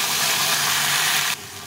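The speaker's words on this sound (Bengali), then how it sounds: "দিয়ে ভালো করে কষিয়ে দেবো। এই মশলাটা কষা কষা হয়ে গেছে," Turmeric and mixed spice paste sizzles while frying in a pan for a small fish curry, a dense, close hiss that holds steady and then drops suddenly near the end, with no talking.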